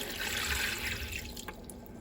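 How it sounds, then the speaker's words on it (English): Water is poured into a pot of chunked beef chuck roast, a steady near splashing fill that runs for about a second and a half, then eases into fainter trickles and drips. "I'm going to add water."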